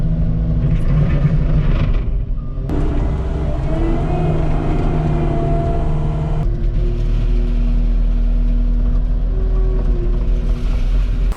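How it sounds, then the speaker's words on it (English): A skid steer's engine runs loudly and close throughout while spreading gravel over drain tile, a steady rumbling drone that shifts in pitch partway through. "in the skid steer, we're going to throw a little bit of gravel on top of that tile"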